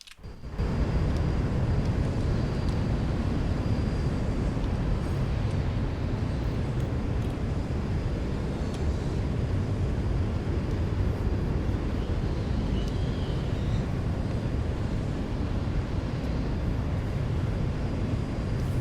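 An American Airlines airliner landing at Charlotte airport gives a loud, continuous low roar heard from inside the cabin, with rushing air and engine rumble that hold steady throughout. No talking.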